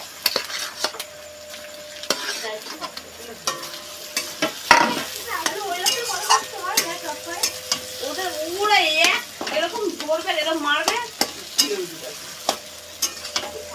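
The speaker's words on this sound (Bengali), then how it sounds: "আদাটাকে ভেজে নিচ্ছি।" Ginger and potato fry in a pan with a close, loud sizzle while a spoon scrapes and stirs in repeated strokes, with squeaky scraping and light clinks of metal against the pan.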